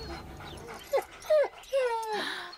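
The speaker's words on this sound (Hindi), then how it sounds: "इसके पीछे कुत्ते छोड़ो" A dog whines and yelps in several short, rising-and-falling bursts, near and fairly loud, in a Hindi-dubbed action film scene where dogs are set loose to chase a man.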